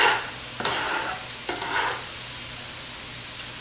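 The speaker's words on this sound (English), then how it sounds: "add the onions. Let them cook for 3 to 5 minutes as well until they're soft" Onions cooking in a pan hiss with a steady sizzle, punctuated by a few distinct scrapes and stirs; close and moderately loud, with no talking.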